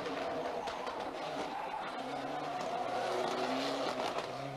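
A Ford Escort rally car driving on a rally stage, its engine note roaring steadily with tonal bands shifting as it works through gears, loud and continuous with a hint of tyre noise.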